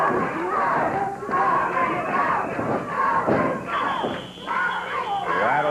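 An indoor wrestling arena crowd roars and yells in surging waves, loud and continuous, with thuds from the ring mixed in and shouted voices rising above the din.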